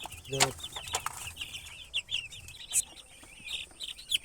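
Chickens being vaccinated in a village cluck and give short high chirping calls close by, scattered and irregular, with a few brief thumps and handling noises between them.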